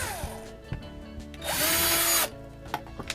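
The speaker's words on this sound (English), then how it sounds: "Drill the hole." Power drill boring a hole in wood while building a spinning ninja sparring partner: a whining motor spins up and runs for about a second under load, surrounded by clicks and handling knocks.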